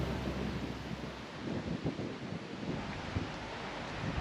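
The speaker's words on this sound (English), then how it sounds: "the conditions are cold and windy" Steady wind on a cold mountain summit rushes and buffets the microphone in a constant, loud roar, with gusts swelling and fading and no other sounds.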